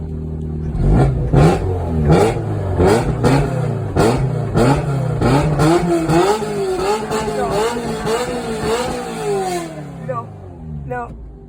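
A 1989 Ferrari 348ts, its 36-year-old engine revving repeatedly in a series of rising, falling wind-ups close by, loud throughout and fading out near the end.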